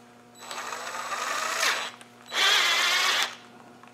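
A die nut spun onto a Land Rover 300Tdi fuel pump stud with a powered driver to clean its threads, in two sustained whirring runs of about a second and a half each, close and fairly loud, with a short pause between.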